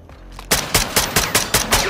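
Rapid gunfire in a video game shootout, a burst of about six sharp, loud shots in quick rhythmic succession after a brief quiet lead-in, close and dry.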